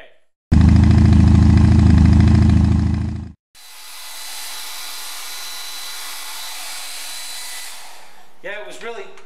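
A hair dryer blows on wet paint, running loud and close as a steady whirring drone for about three seconds, cutting off, then restarting on a lighter airy hiss for several more seconds before a voice speaks briefly at the end.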